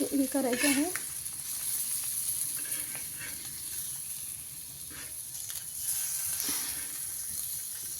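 Egg curry ingredients sauté in a pan with a soft, steady sizzle and occasional stirring scrapes; a brief voice-like chirp sounds at the start, then the frying continues quietly.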